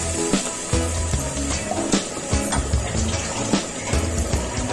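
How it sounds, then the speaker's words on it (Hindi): Water is poured into a pan of chicken handi spices that already hold tomato, garlic, ginger and onion, giving a sizzling, splashing gush with clatters of the pan and stirring, fairly loud and close. "बिल्कुल जरा सा व्यूअर्स में हम पानी शामिल करेंगे"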